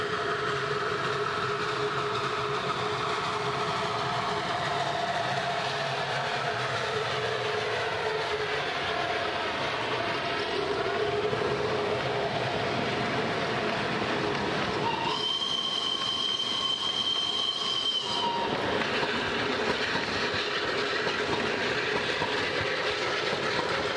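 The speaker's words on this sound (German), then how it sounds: "Unser Zug ist inzwischen zusammengestellt und fährt ebenfalls das Wassertal hinauf." A wood-fired narrow gauge steam train in Romania climbs a valley, its wagons rolling with steady clickety-clack and rumble, and a sustained squeal or whistle-like tone rising for a few seconds partway through.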